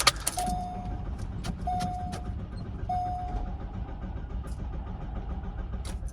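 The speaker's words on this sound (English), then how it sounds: "put it in neutral, and crank it. Nothing." A Mk3 Volkswagen Golf engine turns over repeatedly without catching, in neutral, with three short tonal whirs, keys jangling at the start, and faint clicks over a low rumble.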